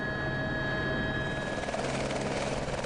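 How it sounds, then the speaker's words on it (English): A Papillon tour helicopter's rotor and engine drone steadily near Las Vegas, a continuous whirring hum with a faint rhythmic chop, fairly close, with no voices. "our chariot awaits in the form of Papillon helicopters"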